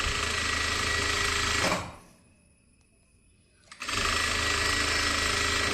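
Sewing machine stitching the collar band of a slitted V-neck kurti, running in a loud, steady whir for nearly two seconds, pausing briefly, then starting up again and running continuously to the end, with no talking.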